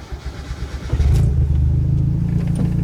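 A car engine fitted with Megasquirt fuel injection cranks briefly, then catches and settles into a loud, steady idle close by.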